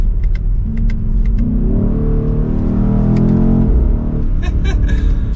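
A 2023 BMW XM pulls away at full throttle on its electric motors alone. A smooth rising whine swells and climbs in pitch over a low rumble for a few seconds, then fades back, with brief clicks at either end.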